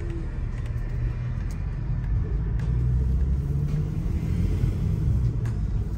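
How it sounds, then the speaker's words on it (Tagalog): A car rolls along toward a parking spot at a farmers market in San Diego, a steady low engine and road rumble heard from inside the cabin. "Magpa-park po tayo ng sasakyan."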